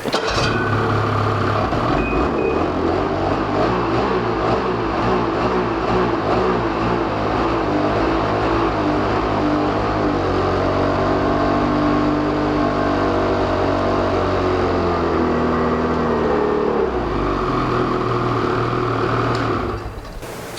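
A snowmobile engine fires up and runs near at hand, a steady loud rumble with some shifts in revs, then settles and drops off at the end, with no talk.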